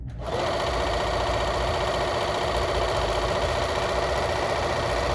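Bernina sewing machine running at full speed on a satin stitch, a close, steady high-pitched mechanical whir that starts abruptly and holds constant, with no voices.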